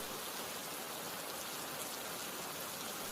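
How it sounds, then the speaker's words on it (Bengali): Heavy rain driven by stormy wind in an animated cartoon scene, a dense, steady roaring hiss of downpour that stays even and unbroken throughout, with no voices. "বৃষ্টির তেজ এতটুকুনিও কমেনি, সেই সাথে বইছে ঝোড়ো হাওয়া।"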